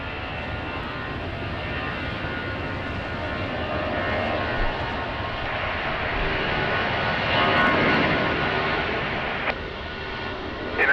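A fixed-wing airliner going around at Lisbon Airport in a crosswind makes a steady, broad engine roar that swells near the end and then eases slightly, with no talk.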